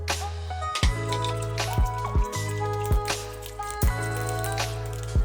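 Water dribbles and splashes into thick waffle batter, with soft wet drips and squishy plops over a steady low background hum.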